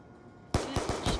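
Video game gunfire from a pistol, a rapid burst of five loud, close shots in quick succession after a brief quiet moment.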